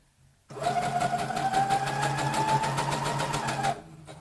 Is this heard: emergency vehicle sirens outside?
no